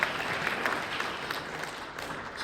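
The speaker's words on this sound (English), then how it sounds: "give yourself a round of applause" Audience applause at a San Diego Rotary Club gathering, a steady dense patter of many hands clapping at moderate volume throughout, with no voices over it.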